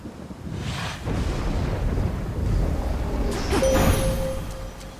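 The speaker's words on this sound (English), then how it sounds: "Raining again." Rain and thunder in the video game Hades II, a steady wash of rain with deep rolling rumbles swelling underneath, and a faint tonal chime near the end.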